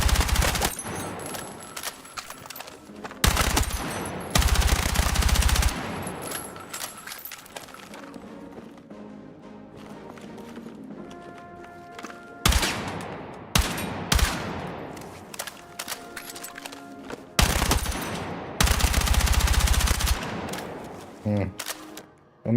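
Automatic weapon fire erupts in several long, loud bursts in a video game, separated by quieter stretches of background game sound and some talking.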